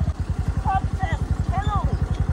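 A motorcycle rides over a rough, rain-damaged road with a close, steady throbbing engine pulse, while a voice speaks over the engine.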